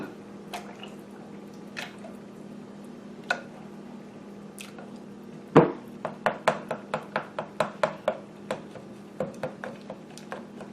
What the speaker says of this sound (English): Potato masher to mash these.